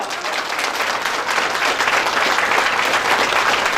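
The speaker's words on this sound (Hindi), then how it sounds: "ताली बजाओ" An audience at a live stage show claps and cheers in sustained applause, a dense, steady wash of many hands that swells slightly louder after the first second and holds.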